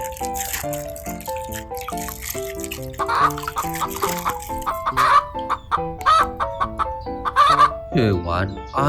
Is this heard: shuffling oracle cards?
no